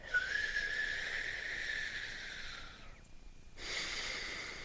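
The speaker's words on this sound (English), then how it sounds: "beginning with that inhale whistle" A breathing exercise: air is drawn in through puckered lips, making a soft, steady, breathy whistle that lasts about three seconds. It fades briefly before a quieter hiss resumes, close and faint, with no talking.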